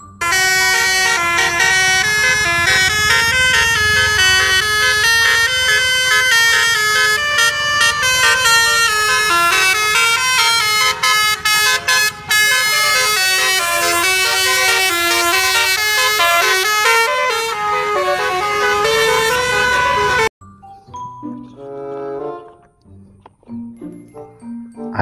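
An SCM Trans Ratu Mahir bus sounds its basuri horns, a loud continuous multi-tone melodic horn tune playing for about twenty seconds, then stopping abruptly before fainter horn notes and traffic noise follow.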